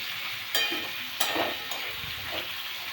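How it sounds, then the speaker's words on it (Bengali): Onions sizzle and fry in a small amount of mustard oil with garlic, whole green chillies and whole garam masala, with a steady hiss. A few sharp stirring clanks from a spoon against the pan break through it. "এবার রসুনটা ভেজে নিয়ে পেঁয়াজ দিয়ে দিলাম"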